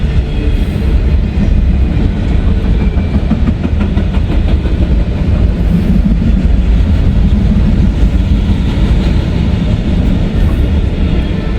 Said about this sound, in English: Yeah, train. Look at that.